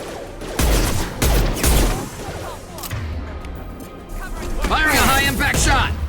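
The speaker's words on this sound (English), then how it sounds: "Firing a high-impact shot." High-impact shots in Mass Effect 2 crack out in several heavy bursts, close and loud, with rumbling battle noise between them and voices mixed into the fight.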